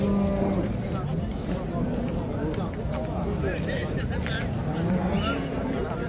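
Cattle at a Friday livestock bazaar in Pastdarg'om, Samarkand, where cows with calves are traded, with low lowing under steady crowd chatter and talk throughout.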